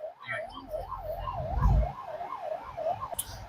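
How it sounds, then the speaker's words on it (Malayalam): An ambulance siren wails in a fast rising-and-falling pattern, fairly close, with some traffic rumble beneath. "അത് സൗണ്ട് കുറഞ്ഞ ആംബുലൻസ്, കൂടിയതിന് പുറകെ വരുന്നത്."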